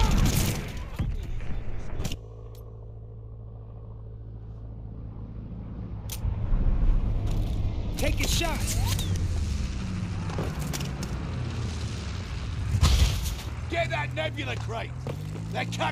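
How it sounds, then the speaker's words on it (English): A glide bomb explodes in the Arms Race video game amid bursts of gunfire and booming impacts, with several loud sharp blasts separated by quieter stretches of engine drone, while players talk over the action. "Friendly sending a glide bomb."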